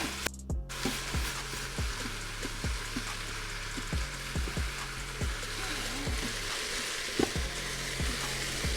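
Ground beef frying in an Instant Pot Duo Crisp as it is broken up, a constant sizzle punctuated by repeated dull scraping and tapping strokes of a utensil against the pot, close and fairly quiet.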